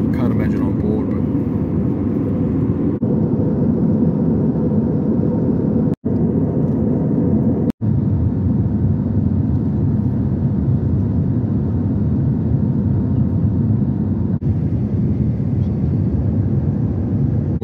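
Steady broadband cabin roar inside an easyJet Airbus A320 on approach to landing, constant and loud throughout, with a voice talking over it and two brief dropouts midway.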